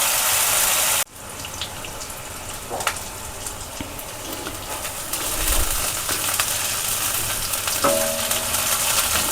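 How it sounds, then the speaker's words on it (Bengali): Tomato, ginger and green chili paste frying in a pan for a Bengali katla fish curry. It sizzles steadily and close up for about nine seconds, with scraping stirs and a few clinks of the spatula against the pan. A short quiet gap comes near the start. "এটাকে খুব ভালো করে ভেজে নেব।"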